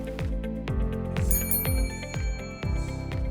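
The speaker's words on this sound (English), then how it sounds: "She brought a bell this time because we're all making too much noise." A chairperson rings a hand bell to quiet a noisy room during judging at an accounting competition; a bright bell tone rings out over a steady, rhythmic background.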